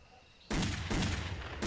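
A loud video game gunshot breaks a quiet moment, with a sudden burst of noisy impact that sustains and is quickly followed by a second blast.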